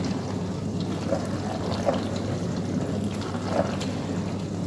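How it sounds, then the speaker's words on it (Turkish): Arçelik 6251 ES dishwasher with its circulation pump impellers turning weakly, giving a steady low mechanical hum with faint rattling and water sloshing, heard up close. "Pervaneler çok düşük güçle dönüyor. Böyle dırıl dırıl bir ses çıkartıyor."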